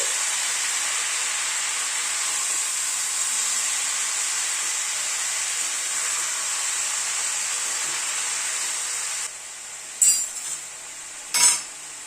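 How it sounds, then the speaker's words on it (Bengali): Cabbage is stirred into spices in a pan, a steady bright hiss of cooking running for most of the clip, then a couple of sharp metal clinks near the end. "বাঁধাকপিটা পুরো মশলার সাথে মিশিয়ে দিচ্ছি।"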